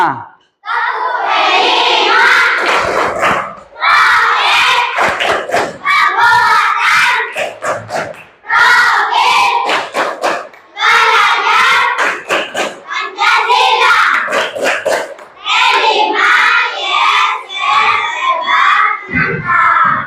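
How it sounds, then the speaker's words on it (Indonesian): A school class of children chants and claps together in a loud, rhythmic group routine, with repeated bursts of shouted voices and hand claps running throughout, close and continuous. "Lanjutkan sekarang tepuk P5."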